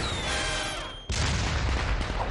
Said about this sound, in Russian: Он испугался салюта?